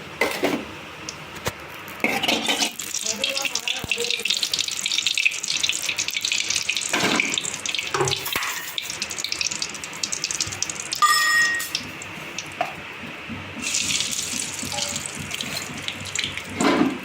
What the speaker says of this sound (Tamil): கடுகு பருப்பு பொரியுது பாருங்கள்.